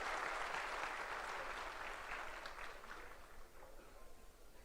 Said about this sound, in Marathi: मी आपणा सगळ्यांना विनंती करेल की जोरदार टाळ्या वाजून आपल्या देवेंद्र करावं